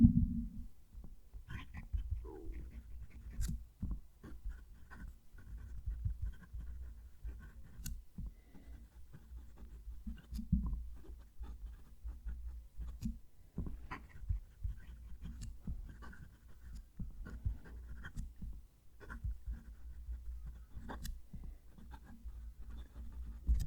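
A Heritage fountain pen nib scratches across paper while someone writes, with faint, close, irregular scraping strokes and small taps continuing quietly on their own.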